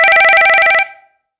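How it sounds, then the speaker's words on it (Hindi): A telephone rings as a call is placed, one loud electronic trilling ring with rapid warbling pulses that stops abruptly and leaves a brief fading tail, with no other sound. "रोशनी फोन लगाती है।"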